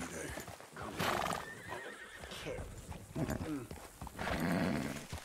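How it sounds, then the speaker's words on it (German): Horses whinny loudly over rapid clip-clop of hooves in the video game Red Dead Redemption 2, with a voice in the mix. "Das sind Pferde. Die können weiterleben."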